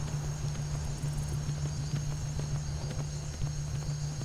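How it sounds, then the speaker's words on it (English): Horse hooves clip-clop in a steady walking rhythm in a fantasy dragon-slayer video game, set against a constant low hum and faint ambient tones, with no talking. "So we're going to steal the horse."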